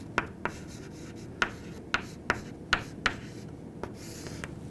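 Marker or chalk writing the word "visible" on a board, a series of short scratchy strokes and taps at an uneven pace, fairly quiet and close, with no talking.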